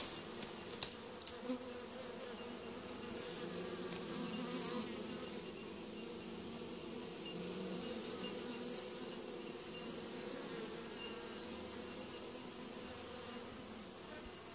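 A swarm of honey bees buzzes steadily and close for the whole stretch, a dense continuous hum with no talking over it.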